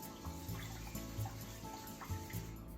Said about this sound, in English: At first, you need to rinse the rice.